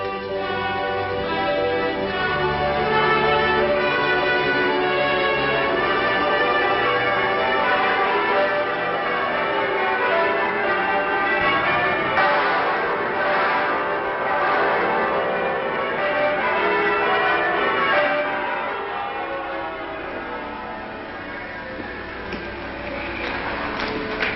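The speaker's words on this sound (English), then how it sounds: "And now the bells begin to ring." Church bells peal in celebration after the Armada is scattered, in a 1937 film: a dense, sustained clangour of overlapping ringing tones that fills the whole stretch and eases slightly toward the end, with no talk.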